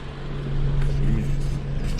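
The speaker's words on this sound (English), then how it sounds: "It's like a car running." Subaru BRZ engine running with a steady low hum, fairly close and continuous, with a faint voice briefly audible over it.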